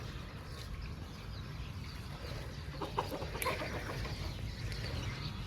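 Chickens cluck quietly in a farmyard, scattered soft clucks over a low background hum with no talking.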